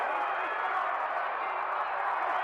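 Boxing crowd in an arena roaring steadily at a Sugar Ray Robinson versus Gene Fullmer fight, a dense, even wash of cheering with no clear breaks.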